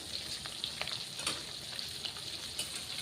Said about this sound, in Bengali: হালকা যখন ফটফট ফটফট আওয়াজটা আসবে তখনই বন্ধ করে দেবেন।